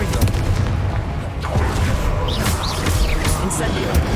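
In Hogwarts Legacy, a Confringo spell blast booms with heavy, dense explosive bursts over a constant roar of combat noise, with a voice speaking over the action.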